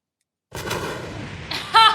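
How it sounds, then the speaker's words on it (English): Explosions from the 2008 film The Dark Knight burst in after a moment of silence, a sustained rumbling blast with a sharper, louder crack near the end. "Explosions. Now you're speaking my language."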